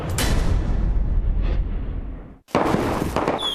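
Fireworks explode in dense, continuous booming bursts at a Fourth of July-style celebration, loud and rumbling, with a brief lull before another sharp volley crackles in.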